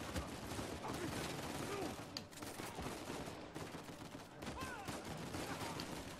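Rapid bursts of gunfire in Uncharted 4: A Thief's End come in a dense, continuous fusillade with sharp cracks throughout and a faint voice mixed underneath.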